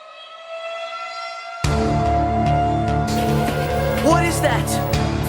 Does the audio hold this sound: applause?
no